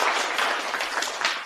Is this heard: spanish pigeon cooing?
no